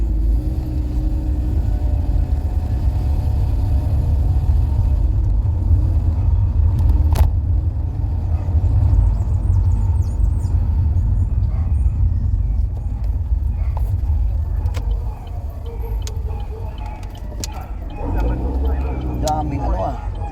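Traffic rumbles steadily around a car driving near a market in Trinidad on a busy Saturday, with a constant low engine and road drone throughout and people talking over it.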